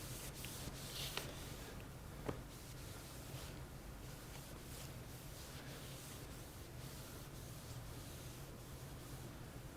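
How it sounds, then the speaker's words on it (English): Steady rasping of sandpaper rubbed by hand over painted bodywork of a Honda GL1500 motorcycle, continuous scratchy strokes close to the mic with a low hum underneath. "I can get a little more sanding up here"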